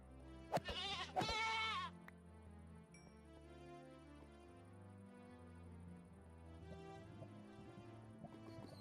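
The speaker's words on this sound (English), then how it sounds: "It's the one thing I don't like about goats in this mod pack." Goats bleating in the Minecraft Hexxit II mod pack: a couple of short, loud, wavering bleats near the start, then quieter game music and ambience fill the rest.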